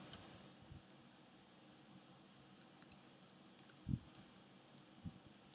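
Typing on a computer keyboard comes through as faint, scattered key clicks, sparse at first and then quicker bursts, close and quiet in an otherwise silent room.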